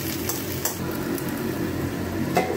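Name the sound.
okra and onions frying in a pan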